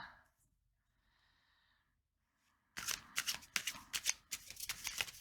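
Tarot cards are shuffled by hand in a quick series of crisp riffling bursts, close and fairly loud. Faint breathing comes first, then a near-silent pause before the shuffling starts, with no talking.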